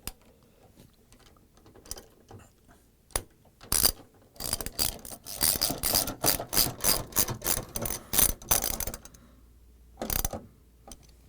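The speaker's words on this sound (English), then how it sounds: "I'm gonna start manually, and I'm gonna use the socket wrench here" A socket wrench ratchets on the 3/8 door hinge bolts of a GE freezer, sounding as quick close clicking bursts in an uneven rhythm, with a couple of separate clicks before the main run and one brief burst afterward.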